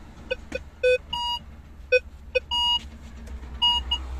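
A metal detector gives a series of electronic beeps, some short and clipped, others held longer, at shifting pitches over a low background hum, as it detects a pair of scissors and a clothes hanger inside a truck.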